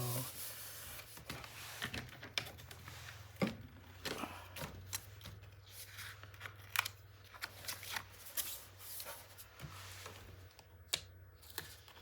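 Scissors snip a paper corner for a scrapbook album in short, crisp, close cuts scattered irregularly over a quiet room with a faint low hum, no talking.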